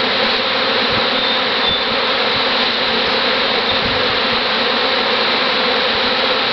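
A swarm of honeybees being coaxed into a box buzzes loudly and continuously, a dense, unbroken drone close by with occasional faint bumps.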